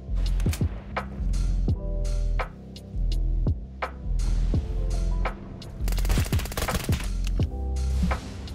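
Gunfire in the Roblox game Apocalypse Rising 2, a series of sharp shots spaced out over a throbbing, humming background, with a denser rapid cluster of shots toward the end.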